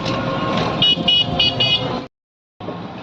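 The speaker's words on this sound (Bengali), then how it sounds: "বন্ধুরা যে অটোতে উঠে পড়েছি" An auto rickshaw ride in traffic, with the engine's steady broadband rumble and a series of short horn toots honking in quick succession, loud and close, then a brief cut to silence before the road noise resumes.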